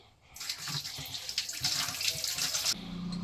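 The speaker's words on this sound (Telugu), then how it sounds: "ఈ ఫైవ్ హండ్రెడ్ గ్రామ్స్ టమాటాని శుభ్రంగా కడుక్కోవాలి" Tap water runs steadily over 500 grams of tomatoes being washed in a sink, a close rushing splash that starts abruptly, lasts a couple of seconds, then cuts off.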